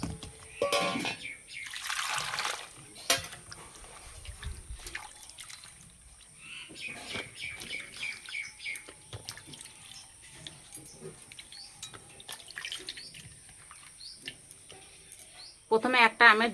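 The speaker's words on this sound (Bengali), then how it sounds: "প্রথমে আমগুলো পরিষ্কার করে ধুয়ে নেব।" Mangoes are rinsed clean in water, with intermittent splashing, trickling and dripping close by, quiet gaps between, and a persistent high background hum.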